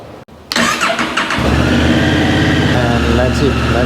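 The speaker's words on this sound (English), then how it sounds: "So we are going to start the bike now." A Honda Africa Twin CRF1100L motorcycle engine after an oil and filter change: a brief starter whir, then the engine catches and settles into a loud, steady close-up idle.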